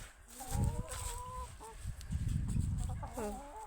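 Hens clucking and cackling nearby in a steady stream of short calls, with a rising, drawn-out squawk or two over a busy yard.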